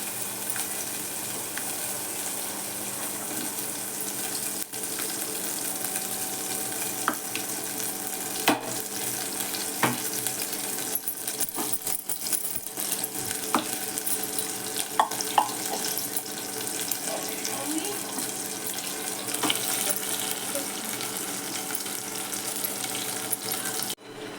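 Days-old milk cream sizzles steadily in a pan as it is cooked down into ghee, stirred with an iron ladle, with faint scraping and clinks over the constant frying hiss.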